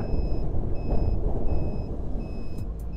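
A Gesits electric scooter's reversing buzzer beeps in a regular, evenly spaced series of short electronic tones over loud road and wind rumble, recorded close while riding.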